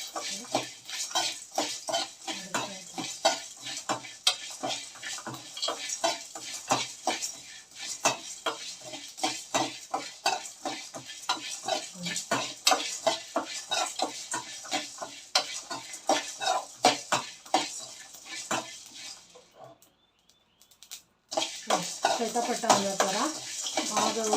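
Horse gram is dry-roasted in a pan and stirred with a spoon, giving a steady run of scraping and rattling metal strokes close up, with a short pause near the end.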